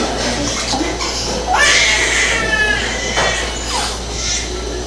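A newborn baby being bathed in warm water, with gentle splashing and trickling and a short high infant cry or whimper in the middle, heard up close.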